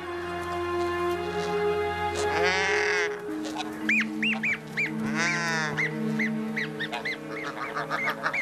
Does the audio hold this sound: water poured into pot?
no